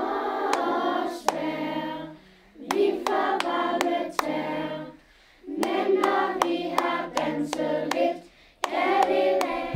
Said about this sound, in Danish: og så ud, og så klap